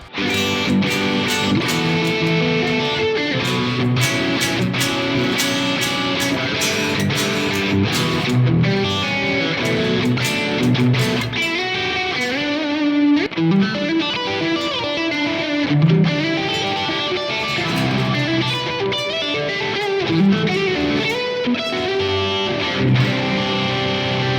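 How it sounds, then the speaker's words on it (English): Electric guitar, a PRS Mark Holcomb with split-coil pickups, plays mid-gain overdriven chords and single notes, steady and fairly loud throughout, with no voices. "So I just wanted to try some split coil tones with both of them."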